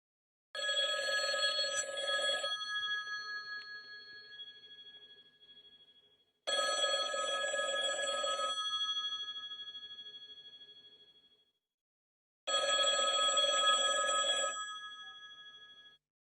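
A telephone bell rings in three long bursts, each about two seconds, separated by roughly four-second pauses, clear and fairly close with no talking.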